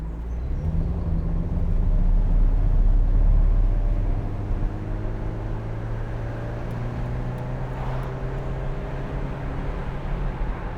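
A Mercedes-Benz SLK200 Kompressor sports car drives along, its engine a steady low drone with rising and falling tones and road rumble, swelling early and then holding level.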